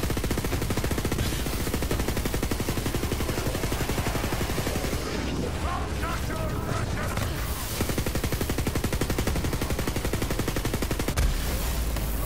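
Borderlands 3 gunfire in rapid, dense bursts, loud and nearly nonstop, with booming cannon-like blasts mixed in.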